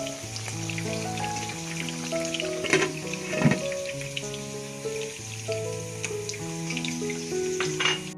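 A chicken kabab gravy bubbles and sizzles vigorously in a pan as a steady crackling hiss, with background music playing throughout.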